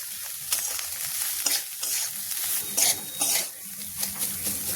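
A spoon stirs cauliflower paratha filling, seasoned with cumin powder and salt, as it fries in a pan: a steady close sizzle broken by repeated scraping strokes of uneven rhythm, with no talk.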